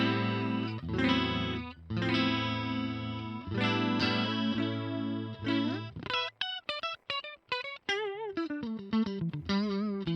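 Electric guitar played through the Line 6 Helix Native Jazz Rivet preset rings out in sustained chords with a chorus shimmer, then breaks into short plucked single notes and bends, close and alone.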